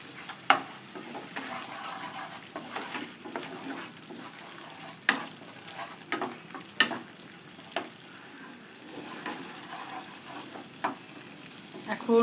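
Egg korma masala seasoned with chili powder sizzles in oil in a pan, with a steady frying hiss broken by sharp scrapes and knocks from stirring.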